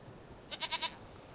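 A goat in The Witcher 3: Wild Hunt bleats once, a short quavering cry with a rapid wobbling pulse, fairly close and clear over a quiet background.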